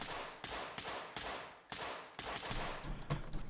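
Gunfire in the tactical shooter Ready Or Not, a rifle firing several sharp bursts of shots in quick succession, loud and close, with brief gaps between volleys.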